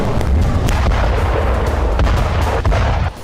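Dense rumbling bomb blasts from the Israel-Gaza war pound without pause, a loud barrage of booms and cracks layered over a constant low roar.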